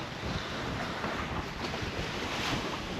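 Sailboat under way in the Coral Sea on a breezy afternoon, with steady loud wind rushing across the microphone and the wash of waves against the hull filling the whole stretch, no voices.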